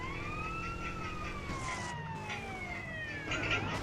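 Police car siren wailing with a rising and falling tone, heard from a driving game with road traffic noise, continuous and fairly loud for the whole stretch.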